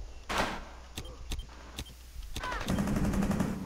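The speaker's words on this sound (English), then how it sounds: "Buck is sniping through the window" Sniper rifle fire in Rainbow Six Siege: several sharp, loud gunshots crack at uneven intervals, followed by a denser rattling stretch of in-game noise toward the end.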